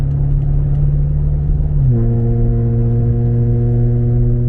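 Turbocharged BMW accelerates while merging onto a highway, the engine holding a steady hum before a gear change drops the pitch, then a smooth, rising drone close up.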